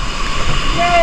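Strong floodwater rushes in a loud, continuous roar, close by, with a voice speaking over it for a brief moment.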